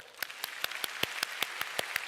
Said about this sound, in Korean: 이 정도 박수 한번 할까요?